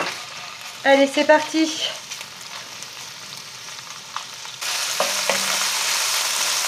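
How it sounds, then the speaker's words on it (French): Raw shrimp hit a hot pan and break into a steady, loud sizzle that fills the second half, after a brief spoken remark and a few soft handling sounds. "je vais mettre mes crevettes à sauter dedans"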